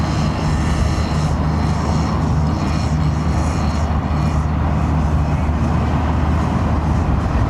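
A jet airliner takes off at London Heathrow Airport, its engines roaring loud and steady as a broad, continuous rumble that fills the whole stretch without letting up.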